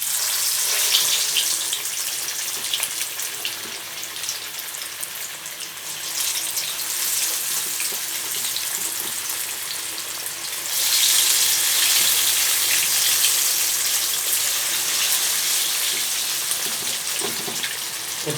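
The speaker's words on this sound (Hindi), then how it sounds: "कढ़ाई में घी हमारा अच्छे से गर्म हो चुका है और अब हम अपनी मछली को फ्राई कर लेंगे।" Marinated fish frying in hot ghee in a kadai, giving a steady dense sizzle and crackle that swells louder partway through and continues alone without voices.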